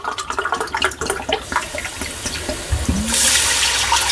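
Water poured from a glass into a cooking vessel while measuring ten glassfuls for sago vadiyalu, a steady splashing pour that swells into a louder gush near the end.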